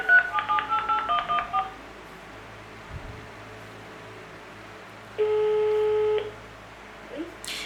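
Telephone line tones as a call drops: a rapid run of about eight dialing beeps, a quiet stretch of line hiss with a brief click, then a single sustained dual-tone beep lasting about a second, all fairly clean and close.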